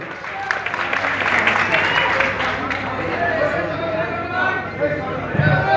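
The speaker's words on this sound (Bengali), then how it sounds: "আমরা করতালির মাধ্যমে তাদেরকে স্বাগত জানাই" Audience applause at a Gana Odhikar Parishad political gathering welcoming newly joined party leaders, a steady, dense patter of clapping from a crowd heard under an amplified announcer's voice.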